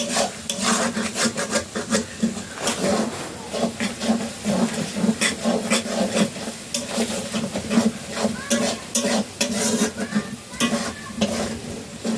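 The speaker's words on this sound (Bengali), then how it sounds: "পেঁয়াজটার মধ্যে আমি অল্প করে নুন দিয়ে দিচ্ছি, এতে পেঁয়াজটা তাড়াতাড়ি ভাজা হয়ে যাবে।" Onions with salt frying in a pan for a rustic chicken dish, stirred constantly so that dense, rapid scraping strokes ride over a continuous sizzle, close and fairly loud with no talking.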